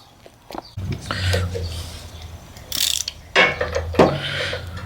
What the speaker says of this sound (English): We'll put her back down in the hole and tighten her up.